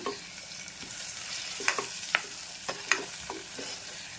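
Curry leaves frying lightly in a pan for Telugu pepper rasam (miriyala charu), a soft steady sizzle with scattered sharp pops and stirring clicks, close and fairly quiet.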